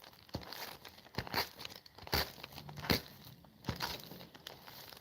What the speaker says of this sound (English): So I simply cut the clay into small pieces.